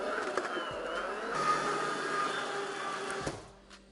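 A stand mixer kneads dough at high speed, giving off a steady, moderately loud motor whir with faint clicks throughout, then a slight drop at the end; no talking.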